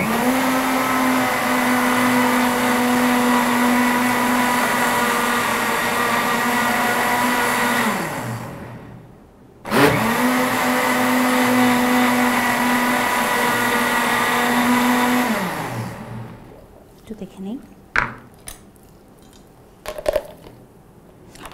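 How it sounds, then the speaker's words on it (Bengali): An electric blender whirring loudly and steadily as it purees pineapple for a Rooh Afza colada, running in two long bursts with a brief stop between, then winding down into clatters and knocks. "এই জন্য আমি খুব ভালো মতো ব্লেন্ড করে নিচ্ছি"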